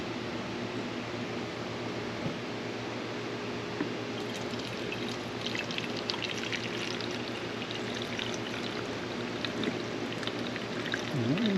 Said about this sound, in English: So I'm gonna fill it up with water and see what happens.